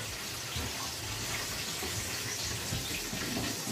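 A glass of water is poured into a pan while braising Cameroonian-style fish, a steady close splashing gush with no speech.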